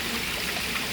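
A mountain stream flows steadily with a dense, even rush of water and no pauses, close and moderately loud.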